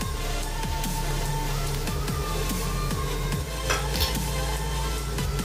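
Tuna filling with mayonnaise is stirred in a bowl, a steady run of repeated scraping, squelching strokes in an even rhythm, close and moderately loud, with no talking.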